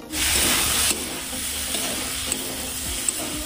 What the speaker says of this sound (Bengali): দিয়ে ভালো করে নাড়িয়ে কষিয়ে নেব আলুটাকে